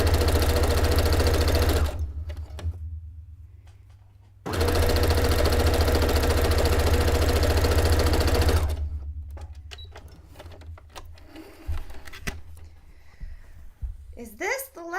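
A sewing machine runs close by, stitching straight lines in two long, loud continuous bursts separated by a pause, followed by quieter handling noise and a brief voice at the end.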